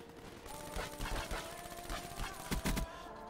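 Gunfire in Call of Duty Black Ops 3, quick bursts of automatic shots, fairly faint and somewhat distant over steady game background noise.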